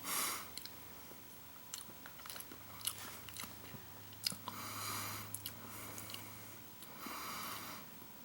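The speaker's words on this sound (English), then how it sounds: "I'm going to start with a piece of just what looks like omelet with egg only" A 1991 MRE omelet with ham being eaten, with soft, close, intermittent chewing and biting plus occasional sniffs over a quiet background, and no talk.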